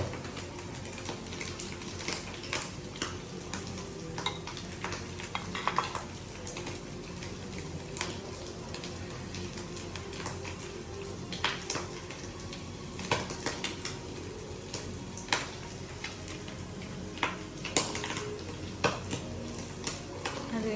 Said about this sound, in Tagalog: Haluin lang natin na matunaw siya